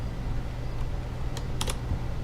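Someone types on a computer keyboard, a quick run of close, crisp key clicks over a low steady hum, with a couple of sharper taps near the end.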